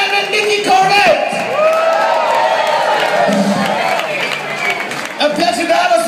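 Concert audience at a carnival show cheering, whooping and clapping loudly for several seconds, a dense crowd roar with shouts rising over continuous applause.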